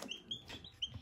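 Newborn chicks, two of them dark, peep in a cage fitted with an artificial brooder: a few faint, high, quick chirps in close succession.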